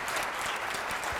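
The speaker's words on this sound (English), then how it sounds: "Absolutely applause." An audience claps in a steady, full round of applause that holds at an even level for just over a second, with no voices standing out above it.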